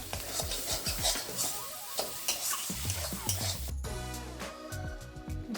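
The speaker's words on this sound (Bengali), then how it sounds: "এখন এটাকে ভালো করে নাড়াচাড়া করে নেব।" Spiced filling for karkol being stirred in a wok, a steady scraping and clinking of the spatula against metal with a low sizzle underneath, close and continuous, with no talking.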